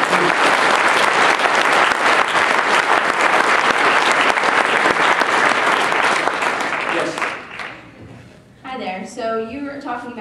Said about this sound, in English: So I want to give applause to those people that are doing it in spite of the institution.